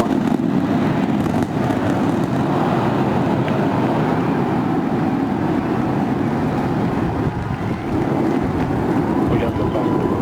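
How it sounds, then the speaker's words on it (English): SpaceX Starship on its eighth test flight lifts off, a continuous loud low roar with wind-buffeted rumble holding steady throughout, distant and unbroken. "We got lift off."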